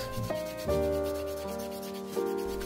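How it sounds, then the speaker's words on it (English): A sandpaper block rubs over a vintage Ken doll in a few short close strokes, giving a dry scratchy rasp with some tonal squeak from the plastic. "Then, I go over it to smooth it with a sandpaper block."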